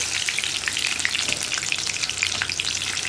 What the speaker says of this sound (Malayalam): ഇനി നമുക്ക് ഈ എണ്ണയിലേക്ക് മുങ്ങി പോവാത്ത ഭാഗങ്ങളൊന്ന് എണ്ണ ഒഴിച്ച് പൊരിച്ചെടുക്കാം.